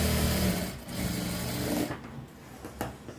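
A sewing machine runs a double stitch line on a blouse seam with a close, loud, rapid mechanical whirring that eases off partway through, followed by a few softer clicks.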